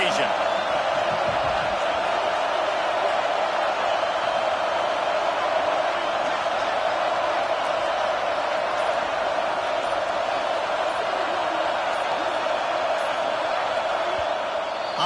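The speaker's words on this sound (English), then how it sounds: "this crowd trying to help this defense rise to the occasion" Steady, dense roar of a stadium crowd at an Alabama at Auburn college football game, loud and continuous with scattered whoops, as fans urge on the defense during a fourth down.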